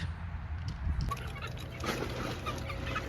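Chickens cluck and call in a homestead coop area on a cold day, near and fairly steady, with some liquid sloshing and low rumbling mixed in.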